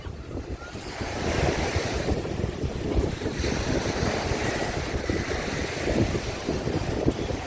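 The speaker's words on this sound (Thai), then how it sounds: "นี่ก็มีทะเลเนาะ" Sea waves washing onto a beach, a loud continuous surf roar with rolling swells and heavy wind buffeting the microphone, no talk heard.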